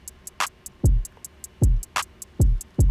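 A dry drum kit beat from a Monty sample kit plays with no effects: deep booming kicks, a couple of snappy snare hits and steady crisp hi-hat ticks in a tight repeating groove.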